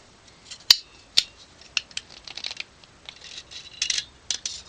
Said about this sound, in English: And then the slide will come right off.